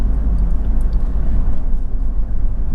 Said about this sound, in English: it's actually a very keen engine to rev. It doesn't tighten up, it doesn't sound harsh. It's got quite a sweet engine note for a diesel.